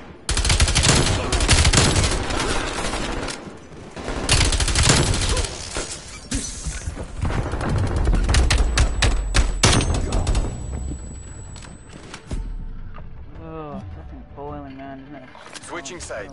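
Video game gunfire in a tactical shooter match, a dense sequence of automatic bursts and rattling volleys that fills most of the stretch with little pause, then gives way to quieter effects near the end, with a voice talking in between.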